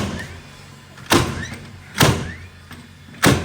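A DeWalt 20v XR 21° framing nail gun fires three times, each a sharp, loud thump spaced roughly a second apart over a steady low job-site background, with no talk.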